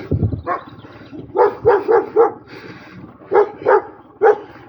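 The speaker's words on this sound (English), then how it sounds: "That was not a Kangal, that was just a regular dog." A dog barks repeatedly at close range, sharp yips in quick bursts with short pauses between them.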